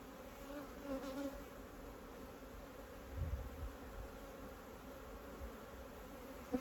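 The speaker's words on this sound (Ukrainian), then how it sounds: "Дивіться. бджола висить. Це райова бджола." Continuous low drone of many honeybees from a swarming colony of Ukrainian steppe bees buzzing nearby, steady and fairly faint, with slight swells in loudness.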